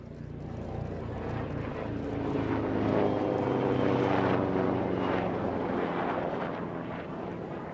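A Beechcraft King Air maritime patrol aircraft of the Armed Forces of Malta flies a display pass at an airshow, its steady propeller drone swelling slightly toward the middle and holding at a moderate distance.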